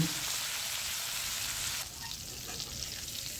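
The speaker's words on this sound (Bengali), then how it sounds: "আলু ফ্রাই করে নিব" Potato pieces frying in oil in a home kitchen, a dense close sizzle that drops to a quieter, thinner crackle partway through.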